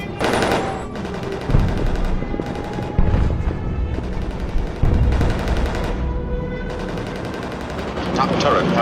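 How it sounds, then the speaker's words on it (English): Machine gun fire from the top turret of the B-17 Flying Fortress Memphis Belle during a bombing run, loud repeated bursts over the roar of aircraft engines and battle noise. "Top turret fires at him."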